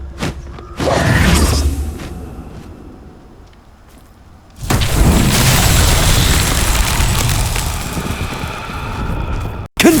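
A Confringo fire spell from Hogwarts Legacy blasts in two loud booming explosions, the second followed by a long rumbling, crackling roar close up, with a quieter lull between them.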